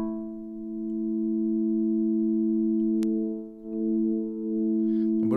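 Analog synthesizer holding a sustained steady tone with strong harmonics, loud and continuous, with a short click midway, a brief dip and a shift in timbre near the end.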